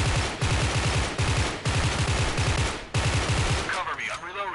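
M16A3 rifle firing repeated three-round bursts in the video game Special Force 2, rapid clicked bursts in quick succession across the whole clip, loud and close, ending with a short metallic reload-like clatter.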